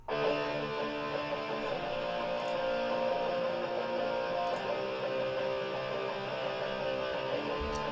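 Dense distorted electric guitar chugs continuously as a rhythm part, steady and sustained, moderately loud with no voices.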